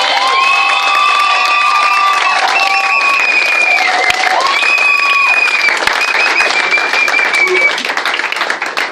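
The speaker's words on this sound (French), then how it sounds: "quelqu'un acclame très fort Jésus-Christ" A wedding congregation erupts in loud, sustained cheering, applause and high-pitched shouts and whoops that fill the space throughout and fade slightly at the end.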